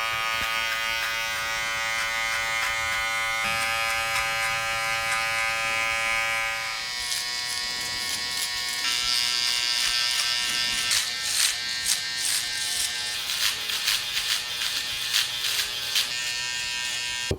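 Steady, loud buzz of an electric shaver running continuously while shaving thick hair during a barber drop fade, with rhythmic crackling as the blades pass over the scalp.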